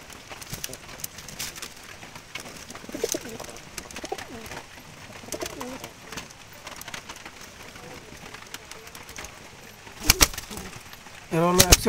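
Jalali wild pigeons coo softly and repeatedly at close range, with scattered rustles and wing flaps, a few louder bursts near the end, and a voice talking at times.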